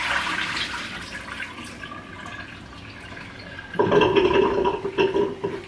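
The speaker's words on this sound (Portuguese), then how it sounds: "Vou escorrer a água do pato." Water poured off cooked duck into a sink, starting as a light trickle and then swelling into a fuller splashing gush toward the end, close and unaccompanied by talk.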